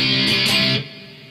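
Electric guitar strumming the chords of a song, a dense, bright chord sustained for under a second, then cut off into a faint ringing tail, with no voices.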